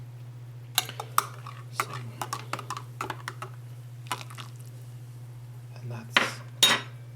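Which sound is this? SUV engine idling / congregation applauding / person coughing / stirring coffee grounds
stirring coffee grounds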